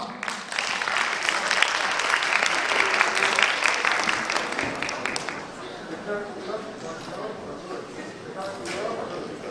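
Congratulatory applause from the crowd at an awards ceremony for kindness prizes, loud and dense at first, then thinning to a softer patter while voices murmur beneath.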